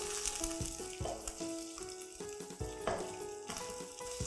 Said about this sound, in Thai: ตามด้วยพริกแกงนะคะ เราจะผัดจนพริกแกงหอมนะคะไม่ต้องใช้ไฟแรงมากค่ะ